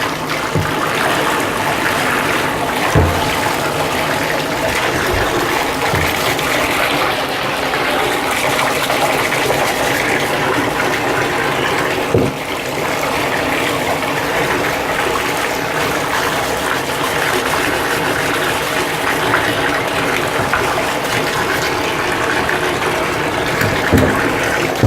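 Running water pours in a steady, loud, continuous stream close by as a painted Batman figure is rinsed off, with only faint knocks now and then.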